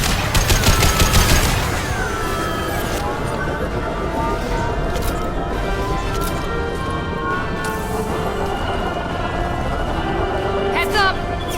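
Rapid gunfire in the sci-fi shooter Mass Effect 2, aimed at injection tubes during a final boss battle. A dense, loud burst of automatic fire opens the clip, followed by sustained combat noise with electronic tones, booming effects and speech layered over it.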